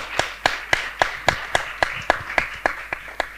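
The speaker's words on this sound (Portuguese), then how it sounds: "Para elas, por favor, uma salva de palmas." An audience claps in a steady, even rhythm of about a dozen loud, distinct claps, like a room giving rhythmic applause after a talk on women leading peace.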